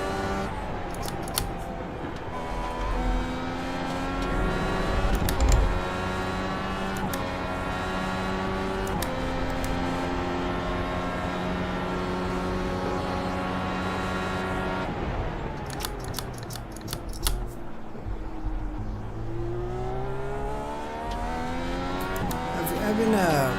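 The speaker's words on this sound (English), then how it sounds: "some people claim that the IR18 engine and the DW engine sound the same." A Dallara IR18 IndyCar engine in the iRacing simulator, a high-pitched racing engine whine rising and falling through gear changes and corners, near and continuous throughout.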